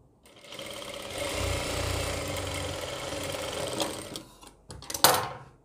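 A sewing machine stitches a long designer kurti in one steady close mechanical whir lasting several seconds, then slows with a few short bursts and a brief higher rattle near the end.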